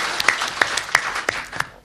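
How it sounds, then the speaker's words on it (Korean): A small audience at a Gyeonggi Province presidential-pledge forum claps briefly, a handful of sharp, separate hand claps spaced across the moment, fairly close and without speech. "한 박수 한번 쳐주세요"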